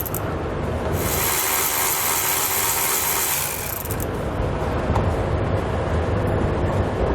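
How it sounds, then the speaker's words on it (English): A power tool works a 10mm socket to remove bracket bolts on a 2020 Chevrolet truck during a Curt underbed gooseneck hitch install: a loud, steady high whir for about three seconds, then rumbling and clunking continue nearby. "This is going to use that 10mm socket."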